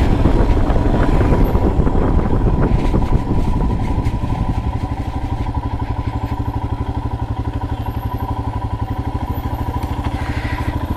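A motorcycle idles at a parking spot beside the Teesta river near Triveni, Darjeeling, its engine ticking in a steady, close, even pulse after a louder, rougher start.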